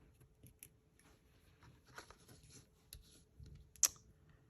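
A few quiet, close scissor snips cutting a small piece, with light clicks and faint handling noises between them and one sharper snip near the end.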